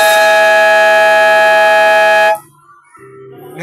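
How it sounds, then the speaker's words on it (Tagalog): A loud, sustained electronic basketball game buzzer blares for about two seconds, ending a quarter, then cuts off abruptly, leaving faint background murmur. "Buzzer na lang maririnig nyo."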